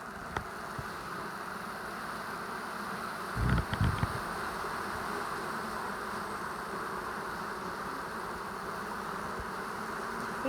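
Honeybees in an open hive, the queen mostly staying in the bottom box, give off a steady, dense buzzing that holds throughout, with a brief louder knock or handling bump near the middle and no talk.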